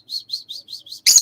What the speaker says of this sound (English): What's up, bird? Oh yeah, that's what it is. It's that birdie you have.